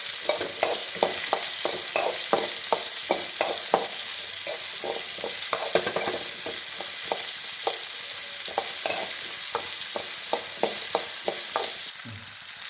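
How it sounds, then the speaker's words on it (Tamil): Bitter gourd sautéing in hot oil with mustard seeds and curry leaves, a steady sizzle broken by regular scraping strokes of a spatula through the whole stretch, close and fairly loud with no talking. "இது நல்லா எண்ணெயிலே வதக்கணும்"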